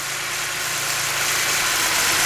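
A BMW E46 M3 straight-six idles with a cylinder misfire, a steady close engine rumble throughout with no talk over it.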